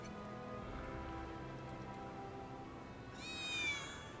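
Cat meowing in the Final Fantasy VII Remake video game: a short, clear rising meow sounds near the end over a steady bed of in-game ambience and soft background music.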